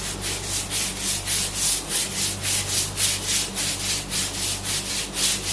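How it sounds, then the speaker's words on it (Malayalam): A hand brush scrubs a surface during cleaning with a homemade all-purpose cleaning liquid, steady rhythmic back-and-forth strokes repeating about twice a second, close and fairly loud with no talking. "ഞാൻ പതിയെ ഒന്ന് ബ്രഷ് ചെയ്യുന്നതേ ഉള്ളൂ ഇതിനിടയിൽ."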